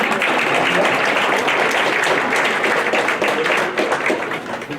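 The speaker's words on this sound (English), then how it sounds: "give them a round of applause" An audience at a school board meeting applauds steadily, a dense wash of many hands clapping that holds throughout and thins slightly near the end.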